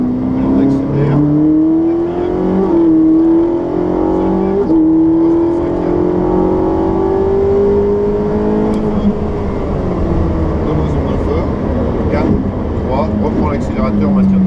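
A Ferrari 458 Special on a racing circuit, engine note rising steadily in pitch through the gears with brief dips at shifts, heard from inside the car over a constant road roar, with an instructor talking over it.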